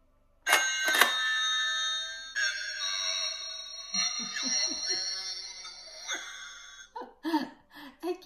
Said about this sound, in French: je vais demander à mon mari d'accrocher cette sonnette